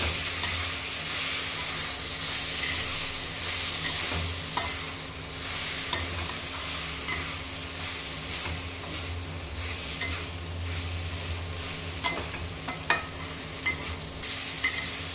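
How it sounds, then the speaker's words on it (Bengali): Potatoes and mushrooms fry and sizzle in a pan with a steady hiss, while a utensil stirs them and clinks sharply against the pan several times, close and clear. "কিছুক্ষণ নেড়ে চেড়ে নেব এটাকে"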